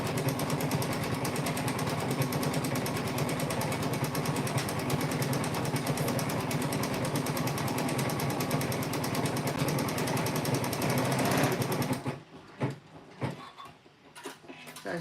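A sewing machine stitches a satin stitch for a quilt block, a loud, fast, continuous buzzing hum that runs unbroken for about twelve seconds, then stops and leaves faint handling sounds.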